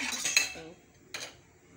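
A spoon stirring pumpkin leaf sauce with blended pepper, tomato and crayfish in a pot: a few close metallic scrapes and clinks against the pot, the first cluster louder, then a brief second clink after a pause.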